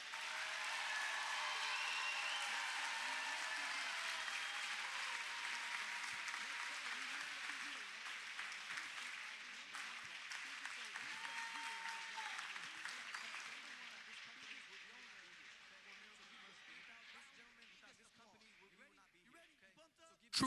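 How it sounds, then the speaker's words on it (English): An audience applauds sponsors at a Miracle University event, steady crowd clapping that swells loud early and slowly thins and softens over about twenty seconds, with faint voices beneath. "Your biggest applause for Mike and Paragi Patel from"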